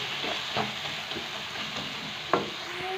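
Peas tipped into mixed vegetables with cauliflower frying in a pan, a steady broad sizzle throughout with a few soft knocks and one sharper clatter near the end, close and moderately loud, no talking.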